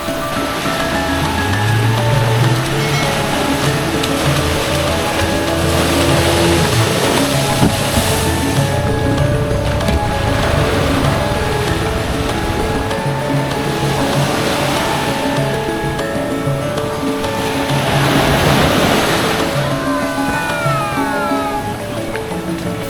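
Ocean waves rolling in at Drini Beach, Yogyakarta, a steady broadband wash with surges swelling and fading through the stretch, mixed with faint background noise and no talk.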